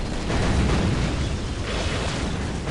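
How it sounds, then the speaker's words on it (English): Dense, continuous rumbling blasts from a large Orks versus Necrons battle in Dawn of War, loud, overlapping booms and gunfire blending into a thick roar with no clear gaps. "All the explosions."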